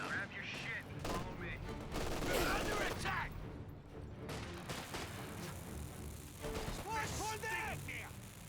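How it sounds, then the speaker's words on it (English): .50 cal machine gun firing in Company of Heroes 2, rapid bursts of gunfire mixed with battle noise and distant explosions, with voices speaking over it throughout. "50 cal sitting on up, hitting the cutoff sector"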